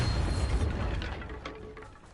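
The Bombarda blasting spell going off in Hogwarts Legacy, a short low boom that rolls off into a fading rumble with faint mechanical clatter, close and heard alone.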